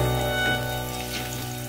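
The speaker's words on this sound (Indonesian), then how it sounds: "kemudian panaskan minyak goreng secukupnya untuk menumis bawang" Onions sautéing in hot cooking oil in a home kitchen make a steady, close frying sizzle with a soft patter like light rain, and a sustained tonal hum runs beneath it.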